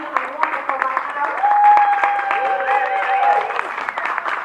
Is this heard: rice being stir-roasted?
no